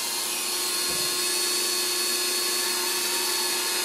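A variable-speed rotary tool whirs steadily while polishing a scratched camera lens, its loud, continuous high-pitched drone running unbroken through the whole stretch with no voices.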